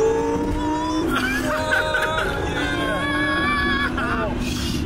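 A supercharged Audi R8 engine revving hard through the gears, a loud close whining roar with rising pitch sweeps and shifts, heard from inside the car while people talk over it.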